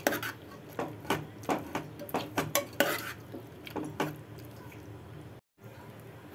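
Boiled peas being mashed and mixed in a pot with a spoon, giving repeated close clanks and scraping strokes in a steady rhythm, then a brief pause near the end.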